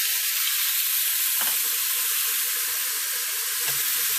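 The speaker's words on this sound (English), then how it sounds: "Now it's time to throw in the cheating carrots." Carrots searing in a hot pan for a pot roast, giving a steady, loud sizzle and hiss that fills the whole stretch, with brief louder spits as pieces land in the fat.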